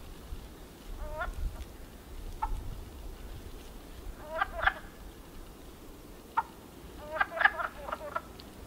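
Wood frogs calling from a spring breeding pool, a few short clucking croaks in scattered bursts, fairly faint over a quiet outdoor background with no talking.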